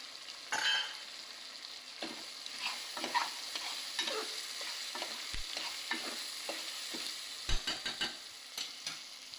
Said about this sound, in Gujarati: હવે આપણે નાખીશું વેજીટેબલ.